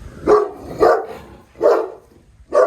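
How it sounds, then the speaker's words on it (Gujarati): A dog barks four times in separate bursts, fairly close and loud, with short pauses between each bark. "આ કૂતરા હે અહીંયા જન બે છે એક કૂતરી હે ને એક કૂતરો હે"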